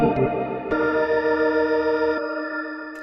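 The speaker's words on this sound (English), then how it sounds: "The spring reverb is going to the speaker" A sustained, shimmering electric guitar chord through spring reverb into a Crumar Burn 2025 rotary speaker pedal swirls with a warbling, echoey wash, ringing out alone before being re-struck and fading.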